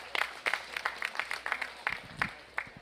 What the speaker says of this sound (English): let's give all three of these division winners and those kids a big round of applause